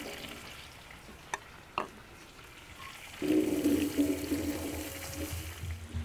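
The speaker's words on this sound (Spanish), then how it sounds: "Vamos a ponerlos a asar." Tomatoes and sun-ripened chilies set to roast in a pan, with a couple of sharp placement clacks followed by a steady, moderately loud sizzle that fills the rest of the time.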